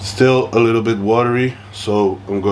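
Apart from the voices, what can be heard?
None of the usual background noises is heard.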